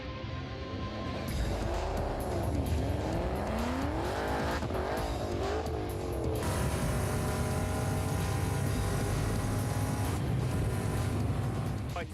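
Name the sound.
race car driving at speed on track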